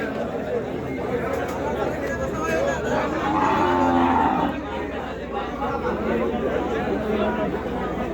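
Cattle low loudly at a busy cattle market in Faridpur, with one long, close moo standing out over a steady murmur of crowd chatter and voices.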